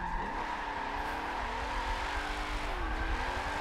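A race car in the Forza 7 video game revs its engine with shifting, rising and falling tones while tires squeal and skid, a continuous mechanical drone with no talk over it.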